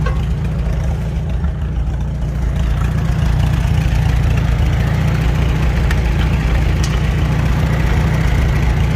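A 1943 Farmall H tractor engine idles steadily and close by, a deep continuous low rumble with a slight rise in level after the first few seconds, with no talking.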